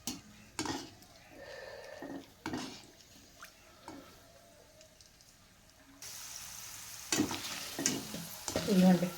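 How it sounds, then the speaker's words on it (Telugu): Tomato vadiyalu, sun-dried tomato fritters, crackle and sizzle in hot oil, with a steady frying hiss broken by scraping stirs and clinks of a utensil, louder and busier toward the end. "ఇదిగోండి, టమాటా వడియాలు ఫ్రై అయినాయండి."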